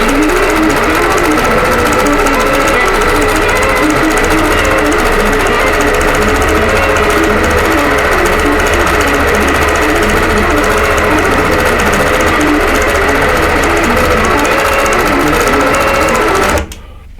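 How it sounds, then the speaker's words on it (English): An IntelliQuilter computerized quilting machine stitches out a design with a loud, steady, fast mechanical whir and hum that runs without pause, then stops abruptly at the end. "Certainly takes me longer to talk about it than it does for the IntelliQuilter to stitch it out."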